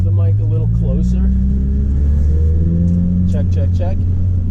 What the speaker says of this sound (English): So I can talk while the car is revving up to at least 2 or 3 grand